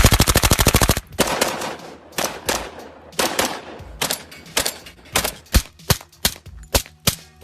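Gunfire rings out from a shooting competition, starting with a fast burst of rapid shots and then settling into separate sharp cracks fired at irregular, fairly quick intervals, loud and close.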